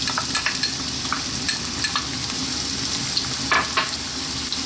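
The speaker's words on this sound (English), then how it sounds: "Then what we're going to do is drop in our onion." Onion dropped into hot oil on high heat for a chicken curry fries with a loud, steady sizzle, with scattered crackles and a few utensil scrapes, and no voices.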